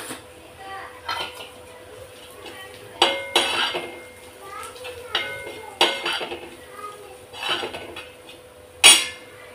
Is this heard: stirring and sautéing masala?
yes